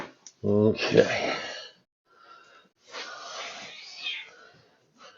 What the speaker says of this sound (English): my cat's over there aren't very happy